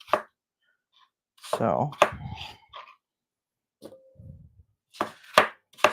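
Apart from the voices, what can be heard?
chopping apple slices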